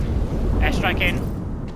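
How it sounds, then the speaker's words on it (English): Airstrike explosions land in a video game firefight as a heavy rumbling blast, with several sharp bursts of debris and crackle stacked on top before the roar fades slightly. "Airstrike in."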